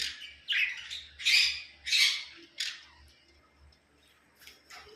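Pet birds in a nesting box give a series of sharp squawks and chirps in bursts over the first two seconds, then quieter calls, close and clear with no talking.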